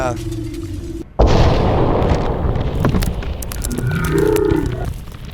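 A deep booming bomb blast in the video game Dead Letter Dept. erupts suddenly after a brief silence, followed by a long rumbling roar that slowly fades, with a voice speaking underneath.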